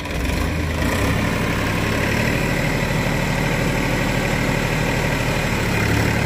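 A Massey Ferguson 245 DI tractor engine idles steadily and loudly nearby, a continuous low rumbling chug with a rough, vibrating texture throughout.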